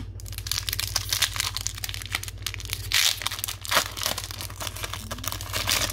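A Flesh and Blood Tales of Aria 1st Edition trading card booster pack wrapper is torn open and crumpled, giving close, loud crinkling and tearing that runs steadily with brief sharper rips.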